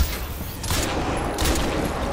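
Gunfire from Crysis 2 sniping fills the stretch as a continuous loud barrage, with bursts swelling around the middle and again near the end.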